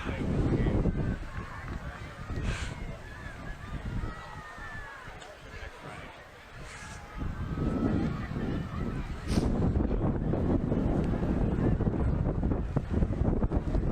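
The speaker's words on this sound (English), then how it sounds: "As the wind swirls and picks up" Wind swirls and gusts across an outdoor football field at Memorial Field at night, rumbling against the microphone in rising and falling waves, with faint voices in the background.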